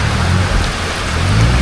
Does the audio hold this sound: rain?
yes